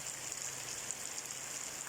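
Heavy rain pouring down in Xiangkhouang, Laos, a steady, even hiss of falling water that holds constant throughout, quiet and without any voices.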